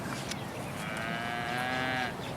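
Cattle low in a long, drawn-out moo that rises and holds steady before fading, heard alone and fairly close over a faint outdoor background.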